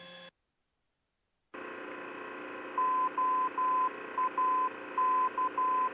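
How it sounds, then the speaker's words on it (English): A VOR navigation identifier sounds its Morse code, heard in a Cessna 421C, as a steady tone of beeps in short and long bursts over a faint hiss, after a brief gap of silence. "Let's hear the Morse code"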